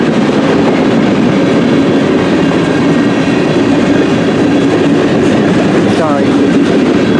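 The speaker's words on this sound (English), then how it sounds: "seeing M384 northbound train, I can tell." A long CN M384 freight train rolls past close by in Port Huron, Michigan, giving a loud continuous rumble with faint rail clatter, while a person talks over it.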